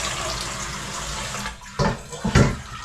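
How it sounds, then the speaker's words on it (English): Water poured from a container into a cooking pot holding maize and beans for githeri at home, a close, splashy rush that breaks into a few short bursts near the end. "So I'm adding the water to the maize and the beans."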